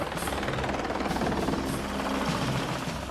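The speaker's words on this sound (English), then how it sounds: "So they're flying an RC chopper" Remote control helicopter flying past scaled model buildings in a film miniature shot, a steady whirring rotor drone that stays loud and continuous throughout with no talking.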